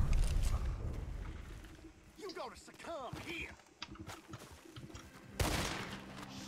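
Gunfire in the video game Red Dead Redemption 2, sharp shots and a heavier burst near the end, mixed with game sounds and someone talking over it.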